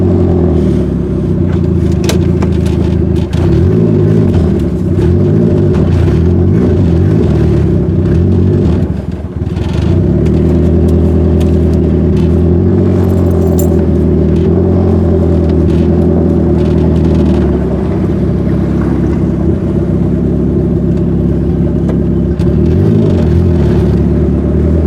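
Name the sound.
turbocharged Acura Integra engine revving while driving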